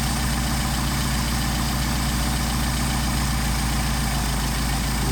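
A Mercedes 190SL engine with Solex carburetors runs at a steady idle of around 800 RPM during carburetor tuning, a loud, even, continuous rumble close by with no voices.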